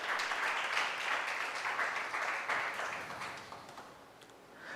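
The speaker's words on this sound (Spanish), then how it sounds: "Dele un aplauso al Señor, por favor. Pero déselo fuerte." Church congregation applauding after the preacher's call, a dense, sustained wash of clapping heard from a moderate distance that gradually fades toward the end.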